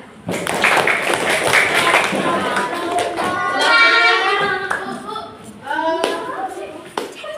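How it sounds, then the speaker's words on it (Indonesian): Children in a class clap for a friend in a short burst of scattered claps, then someone speaks clearly over quieter room noise. "Oke, tepuk tangan buat temannya"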